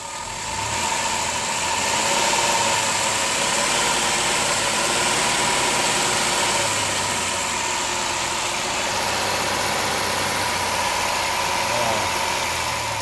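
A 2007 Chrysler Town and Country minivan engine, which sputters on acceleration, idles with a steady, even hum and faint mechanical vibration throughout, heard up close.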